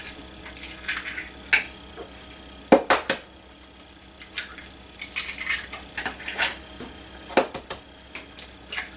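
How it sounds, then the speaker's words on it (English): A whisk clinks against a bowl as eggs are combined for a flan, sharp metallic taps and scraping strokes in irregular bursts, close and clear with no talking. "continue whisking until everything is well combined"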